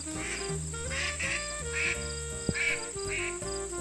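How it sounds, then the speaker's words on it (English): A mallard duck quacks in a run of five or six rasping calls that fall off in strength, fairly close, set against a faint insect hum. "Or the decrescendoing quack of a mallard."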